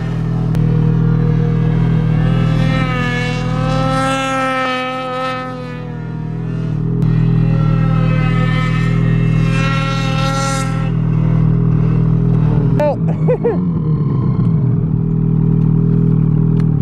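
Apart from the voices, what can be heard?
snowmobile engine revving in deep powder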